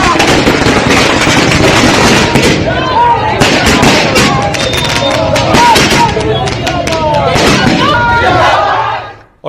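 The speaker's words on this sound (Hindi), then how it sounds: "सम्राट पहुंचे तो फिर पटाखे जलने शुरू हुए" Firecrackers bursting at a political celebration as a dense, loud, continuous crackle of rapid pops and bangs, with crowd noise beneath, fading out abruptly at the end.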